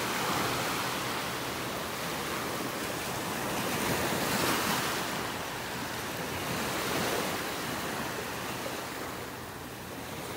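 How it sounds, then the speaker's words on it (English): Small ocean waves break on a beach shore in North Naples, Florida, a continuous soft hiss and rumble of surf with gentle swells, fairly faint, with some wind noise and no talking. "Kind of hypnotic, the sounds of the waves."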